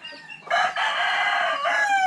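A rooster gives one loud, close crow lasting about two seconds, with hens in the coop nearby.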